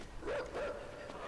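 A dog in a video game gives two quick, faint barks in close succession, with a low steady background hum underneath.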